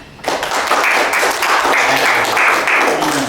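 Classroom applause as students clap together, a dense burst of hand claps lasting a few seconds at steady loudness.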